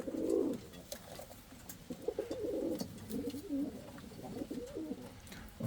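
Several Indian fantail pigeons coo in steady, overlapping low rounds, close and fairly loud, with a few faint chirps over a soft background.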